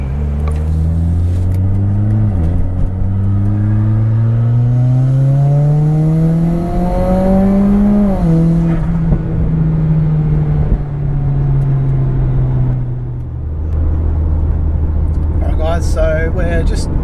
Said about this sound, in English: let's take it for a drive and see what it's actually like with that power level